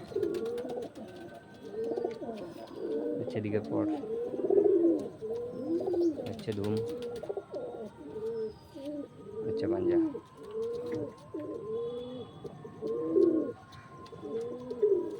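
Pigeons in a home loft coo repeatedly in low rolling bursts close by, while someone talks over them.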